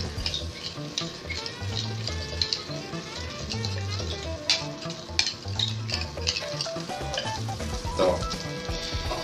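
Butter melts and foams in a frying pan with a constant close sizzle and crackle, while a spatula scrapes and taps in a loose rhythm and a voice says a single word.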